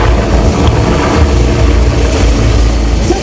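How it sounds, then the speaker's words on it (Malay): A Malaysian Army Agusta 109 helicopter flies close by, its loud steady rotor chop and turbine whine filling the whole stretch without pause, during a special forces maritime demonstration. "Itu dia pesawat udara Tentera Darat Malaysia Agusta"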